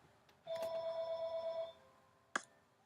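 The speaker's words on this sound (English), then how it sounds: "If you hear a phone in the background, sorry." A telephone rings faintly in the background of a room during an online chess game: one sustained ring, then a short sharp chirp.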